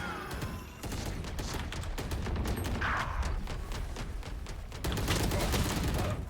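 Rapid gunfire in a shooter video game, a steady stream of dense overlapping shots with sharp cracks throughout, loud and continuous with no talk.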